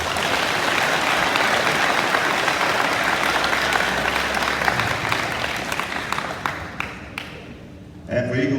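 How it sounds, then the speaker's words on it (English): Audience applause for students being honored at a high school awards day, a dense, steady clatter of many hands filling the room for several seconds before thinning out, with a brief renewed burst at the very end. "Let's give those students a round of applause."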